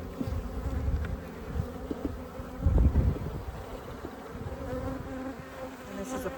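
Honey bees buzzing steadily during a hive check on a colony being switched from Africanized to European stock, a dense close drone with a louder swell midway and no talk.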